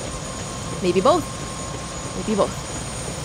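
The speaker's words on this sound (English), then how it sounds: "My first day on the job and my company is picking me up in a helicopter." A helicopter drones steadily in the background of Prey (2017), a constant hum under a man's short spoken words.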